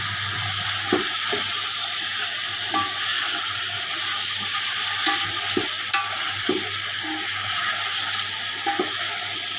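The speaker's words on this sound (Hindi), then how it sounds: "ये बस मैं इसको गोश्त को फ्राई करके निकालूंगी" Mutton pieces sizzle and fry in a pan for a kunna dish, with steady close crackling, periodic stirring scrapes and a low background hum, no talking.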